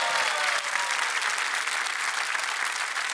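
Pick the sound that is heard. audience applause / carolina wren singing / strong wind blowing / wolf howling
audience applause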